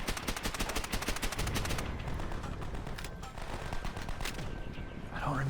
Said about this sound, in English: but I'm going to try and shoot these fellas.